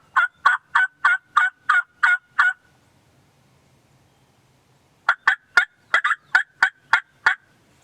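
Wild turkeys gobble in an alfalfa field during early spring, two bursts of rapid, evenly spaced gobbles separated by a quiet pause, loud and fairly close with no talking.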